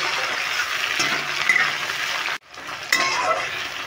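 Chopped tomatoes and onions fry in a pan while a utensil stirs them, giving a steady close sizzle with scraping, briefly dropping out midway before resuming.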